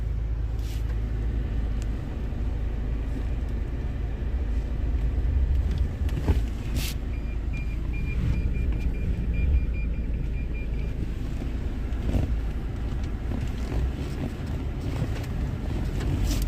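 A Toyota Hilux pickup drives off-road over sand and gravel, heard from inside the cab as a steady low engine drone mixed with road rumble and wind buffeting, with occasional knocks and rattles from the rough ground.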